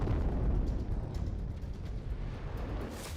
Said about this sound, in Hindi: सैकड़ों ड्रोन अचानक आते हैं और फिर धमाके शुरू हो जाते हैं।